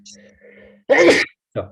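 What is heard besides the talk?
sneeze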